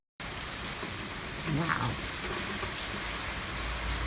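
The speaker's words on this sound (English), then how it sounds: "This is some horrific rain." Heavy rain falling steadily as a dense, even hiss throughout, with a brief exclaiming voice partway through.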